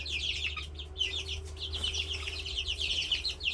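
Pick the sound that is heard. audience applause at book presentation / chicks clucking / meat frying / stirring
chicks clucking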